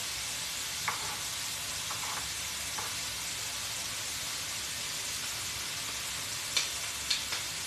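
Red onion fries in a pan with a steady hiss and crackle, broken by a few faint clicks as a utensil stirs it.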